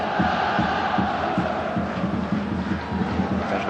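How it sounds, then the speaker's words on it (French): Olympique de Marseille supporters in a stadium during a 1996-97 Ligue 1 match away at Olympique Lyonnais, a dense crowd roar with rhythmic clapping and chanting pulsing steadily in the distance. "les drapeaux sont sortis et ils applaudissent les supporters marseillais"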